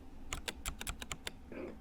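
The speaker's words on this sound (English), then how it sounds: "Now you can either type it like that on the keyboard" Quick keystrokes on a keyboard while saving a project in a VR scanner app: about eight crisp, evenly spaced clicks heard up close, with a brief softer rustle at the end and no talking.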